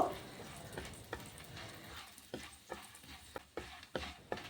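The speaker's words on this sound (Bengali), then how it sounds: "এবার এই বড়িগুলো আমি মিডিয়াম আছে অনবরত নাড়াচাড়া করে লাল লাল করে ভেজে নেব" Small lentil dumplings (bori) frying in oil over medium heat while being stirred constantly: a soft, low sizzle under a run of sharp, irregular spatula taps and scrapes that grow more frequent toward the end.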